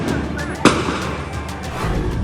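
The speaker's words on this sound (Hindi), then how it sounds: "पहला धमाका, दूसरा धमाका" A crude country bomb goes off at a house in West Bengal, a single sharp blast standing out against steady background noise and commotion.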